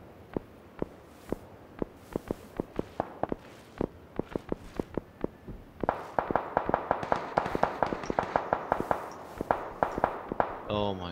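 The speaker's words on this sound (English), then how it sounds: "God, so much gunfire going on." Rapid bursts of gunfire crack repeatedly, irregular at first then denser and faster, sharp and fairly loud, like weapons firing nearby in PUBG.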